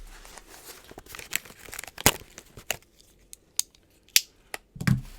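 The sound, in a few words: cutting open a mailed package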